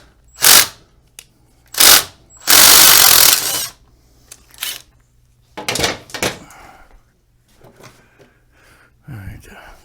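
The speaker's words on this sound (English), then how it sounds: "3/4 socket for the wheel nut, sorry. And that should release your wheel." A ratchet with a 3/4 socket works on the wheel nut of a folding scooter, producing short bursts of rapid clicking separated by pauses, close and fairly loud.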